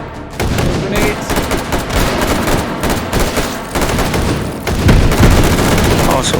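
Dense, loud gunfire and grenade blasts from the VR shooter H3VR, with rapid bursts and heavy booms running continuously through the whole stretch, and a voice speaking over the din.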